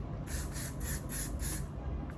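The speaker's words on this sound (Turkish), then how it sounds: "Saç spreyi sıkacağım." A spray can hisses in several short, quick bursts, close by, with a low background rumble and no talking.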